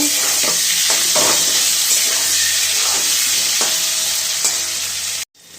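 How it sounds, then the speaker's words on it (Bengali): Potato pieces fry in hot oil until reddish-brown, giving a loud, steady sizzle with occasional stirring scrapes. It cuts off abruptly near the end. "আলুটা আমি লাল লাল করে ভেজে নেব"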